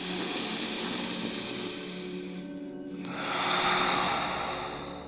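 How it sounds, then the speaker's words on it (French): Slow, deep breaths during a guided relaxation session: a long airy exhale fades toward a quiet pause around the middle, then a fresh breathy inhale swells, close and soft, with no talking. "Je me mets juste sur ma respiration et sur mon souffle."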